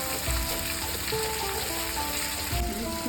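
Chili powder being sautéed in a pan for a Bengali vegetarian chana and soya kofta curry, giving a steady soft sizzle with a few faint scrapes and knocks, close and fairly quiet, with no talking.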